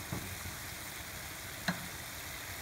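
Ground beef browns in a pan with a steady, close sizzle and faint crackle, a soft clink of a utensil cutting through about midway.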